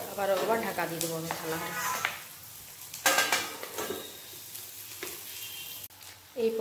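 Fish egg pakoras sizzle in foamy oil on low gas, a continuous crackle broken by utensil scrapes and a plate clattering, with a brief voice-like murmur early on.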